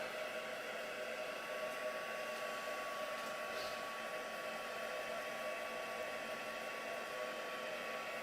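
A hair dryer blows steadily over wet paint on a craft project, a constant close whooshing drone with a faint electric whine, running unbroken for the whole stretch with no voices.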